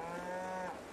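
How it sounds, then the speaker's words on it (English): A cow moos once in a farming video game on a modded map, a long, low, steady bovine call sounding near and clear without speech. "Looks like we might have some cows already, too."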